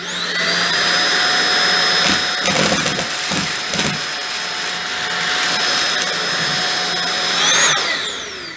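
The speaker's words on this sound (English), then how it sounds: "all vacuum videos must include vacuuming up dog food" Holife cordless vacuum cleaner running steadily with a high whine while sucking up scattered dry dog food, with bursts of rattling kibble in the middle and a brief pitch rise near the end, close and loud.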